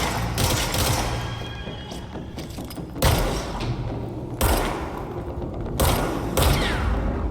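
Gunfire in the video game Control, a loud near barrage of crackling shots with heavy booming impacts landing every second or so, filling the space with little talk.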